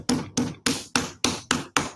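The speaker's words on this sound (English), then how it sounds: "take my hand and pre-flatten the clay" A hand slaps a slab of clay flat, seven firm, evenly spaced thuds in rapid rhythm, close and distinct.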